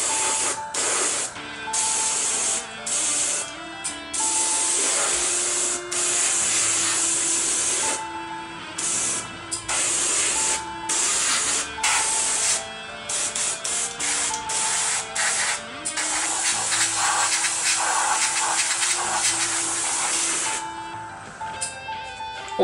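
An airbrush sprays camouflage paint in repeated short and long bursts of close, steady hissing, the airflow cutting in and out as light coats go on.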